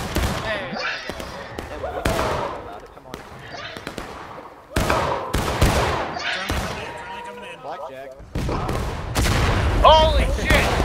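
Gunfire rings out in the Civil War-era shooter War of Rights, with loud musket shots and booming volleys at irregular intervals, some near and some farther off. Voices shout and talk over the shots throughout.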